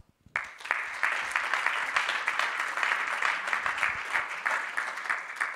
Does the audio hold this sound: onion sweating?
no